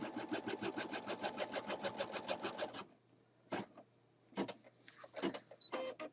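An embroidery machine stitches an applique tack-down at a fast, even rhythm for about three seconds, then stops, leaving a low hum and a few scattered clicks and knocks.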